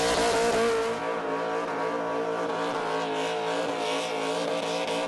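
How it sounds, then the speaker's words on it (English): A supercharged, fuel-injected LS-engined car doing a burnout at a Western Australian burnout competition, a loud continuous engine roar with a sustained high blower whine and tire squeal running steadily throughout. "We're talking about the unique whine of the blown injected LS engines."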